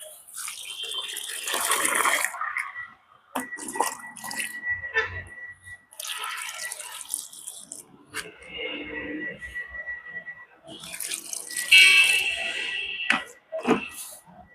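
Water poured from a container onto potting medium made from discarded household materials, splashing and trickling in bursts with pauses between pours, fairly close.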